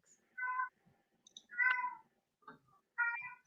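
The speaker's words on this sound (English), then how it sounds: "Got a cat in the background that's meowing himself." A cat meows three or four times in separate short calls spread through a quiet indoor room, moderately close, with near-silence between them and no talk over them.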